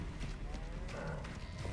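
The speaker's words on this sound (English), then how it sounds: "Why don't you attack some cows?" Cattle in the Hogwarts Legacy video game, a short bovine lowing over soft game ambience, fairly faint.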